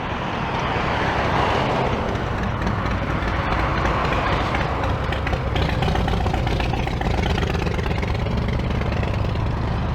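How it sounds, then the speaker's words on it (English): A motorcycle engine idling on an urban street gives a steady mid-pitched rumble that blends with broad traffic noise, holding at a fairly constant level throughout. "Motorcycle."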